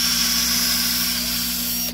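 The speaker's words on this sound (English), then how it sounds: "Okay, so we drill the hole." A power drill bores a hole with a short, steady whirring hum that holds evenly for about two seconds before stopping.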